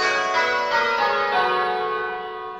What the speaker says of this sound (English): So we've had a few different bells here that have been out of place in various different ways.